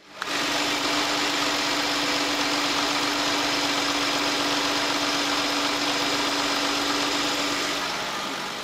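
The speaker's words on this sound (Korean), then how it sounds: "이 차량의 엔진 소리 한번 들어보도록 하겠습니다" Hyundai Genesis BH 330 sedan idling with the hood open, a steady, smooth engine hum heard close up, starting abruptly and holding even throughout.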